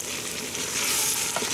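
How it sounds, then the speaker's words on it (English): Chopped vegetables sauté in a pot for a chickpea soup with ground beef, giving a steady, close sizzle and crackle of frying with no voices. "these have been sauteing for about 8 minutes now"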